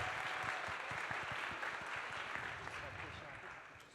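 An audience gives a round of applause, steady and fairly distant, with a low voice or two murmuring beneath the clapping as it gradually fades.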